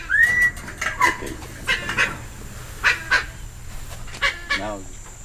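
Red-lored parrots in Costa Rica give a series of short, harsh, honking squawks, close by and spaced irregularly, with a few quick warbling calls among them and quiet background between.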